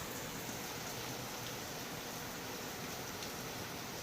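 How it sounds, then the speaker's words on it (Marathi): The season's first heavy rain pours down in Titwala, a steady, even wash of falling water heard from a short distance with no talking. "पाऊस बघा किती जोरात आहे."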